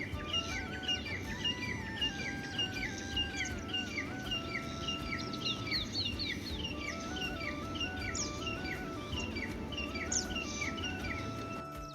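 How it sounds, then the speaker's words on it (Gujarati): Sparrows chirp in the morning, with many overlapping twitters and short calls going on the whole time over a steady low background hum, fairly close and lively. "ચકલા બકલા બોલતા હોય ને મજા આવે તમને. એનો અવાજ તમને સાંભળવું, ખાલી સાંભળો તમે જો."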